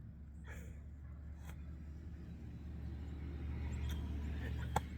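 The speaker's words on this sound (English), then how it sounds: "Husband's driving by." A passing car gives a low, steady road rumble that swells gradually as it draws nearer, with no talk over it.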